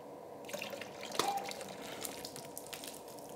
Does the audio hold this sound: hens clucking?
no